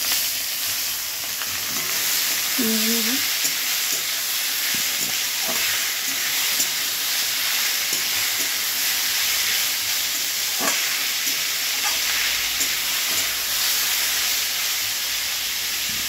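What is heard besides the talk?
ash gourd frying in hot oil in a wok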